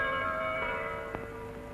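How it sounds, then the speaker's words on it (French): Church bells of the Saint-Victor basilica in Marseille ring as a sustained, resonant toll with overlapping hum, slightly distant and steady through the short stretch. "les cloches de notre basilique racontent à ceux qui savent les écouter de très"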